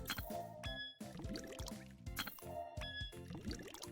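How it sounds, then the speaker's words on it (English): Liquid pours and glugs into vials in a science-class vial-mixing video game, a repeating cycle of bubbly gurgles and rising fill tones set over a quiet musical backing, with no talking. "showing all my amazing vial pouring skills"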